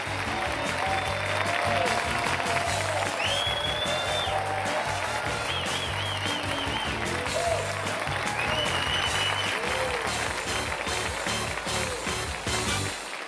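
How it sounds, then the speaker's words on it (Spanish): A large comedy festival audience applauds a troupe taking the stage, sustained loud clapping and crowd noise over steady background music throughout, with brief whoops rising above it. "Recibamos con un fuerte aplauso a nuestros compañeros de Voz Populi."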